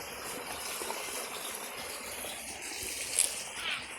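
Water runs steadily along an irrigation channel in a mango orchard, a soft continuous gushing and trickling heard nearby with light outdoor background noise.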